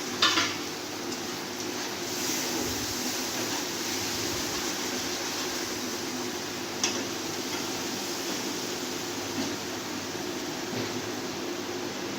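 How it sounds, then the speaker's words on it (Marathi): Tomato-onion paste for a paneer capsicum tikka sizzles in a pan as it is stirred, a continuous low frying hiss with occasional faint spoon scrapes, close and fairly quiet, no voices. "टमाटा आणि कांद्याची पेस्ट करून घेतलेली आहे ती याच्यात टाकणार आहे"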